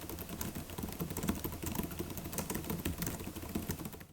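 Someone types on the full-size keyboard of a Gigabyte Aero 15Y laptop, producing soft, rapid, fairly quiet key taps in a continuous irregular stream.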